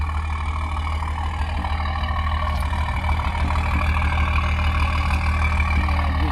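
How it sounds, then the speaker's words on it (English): Stage 2 tuned BMW M140i of 460 bhp with a Quicksilver valved exhaust, idling with a deep, steady, rumbling burble close to the listener, with no voices over it. "We've used Quicksliver for the sound architect exhaust system, which is controlled on a valve."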